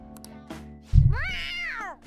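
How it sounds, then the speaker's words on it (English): A cat meows in the video game Persona 5 Royal, one clear rising-then-falling meow preceded by a soft thump, loud and close, alone without talk. "A cat? That rumor cat!"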